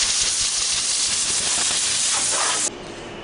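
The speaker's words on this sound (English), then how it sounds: "we got it all sanded down. I'll just go over the edges and just touch these up a little bit." Steady, loud hissing as the edges of a wooden KitchenAid mixer countertop cover are sanded, the abrasive rasp running unbroken before dropping suddenly in level near the end.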